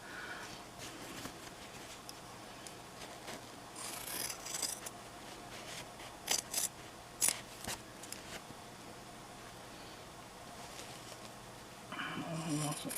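Scissors snip through cloth while a homemade breathable face mask is trimmed, giving soft, close, intermittent cuts and rustles in short bursts against a quiet background.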